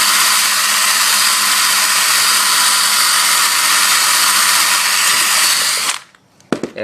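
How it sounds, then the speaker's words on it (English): An 18-volt DeWalt drill spins a wire brush bit against a Baja Dirt Runner 125 exhaust silencer, a loud, steady, high grinding whine for about six seconds that stops abruptly, followed by a few faint clatters. "Got this cool little drill bit for my 18-volt DeWalt drill"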